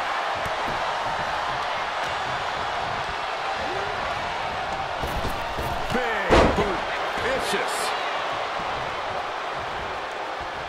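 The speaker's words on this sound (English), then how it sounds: "Scoop slam, making it look easy." A single heavy scoop slam impact in the wrestling game WWE 2K23, one sharp thud midway through, over a steady roaring arena crowd with a commentator talking.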